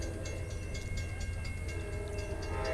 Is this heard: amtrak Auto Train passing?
yes